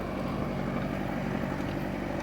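A Kubota MU 5502 4WD tractor hauls a 3MB plough through a field, its engine giving a steady low rumble with light wind noise, unbroken and without speech.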